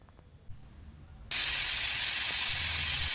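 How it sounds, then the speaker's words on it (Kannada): A pressure cooker steaming togari kalu pulao (pigeon pea rice) lets out a sudden, loud, steady rush of steam after a quiet start, hissing continuously to the end. "ಈಗ ಒಂದು ವಿಷಲ್ ಆಗಿದೆ ಈಗ ಆವಿ ಎಲ್ಲ ಬಿಟ್ಟಿದೆ"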